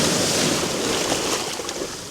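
Sea waves roll in on rocks at Dunstanburgh in gale conditions, a loud, broad wash of surf with wind buffeting the microphone throughout, no talking.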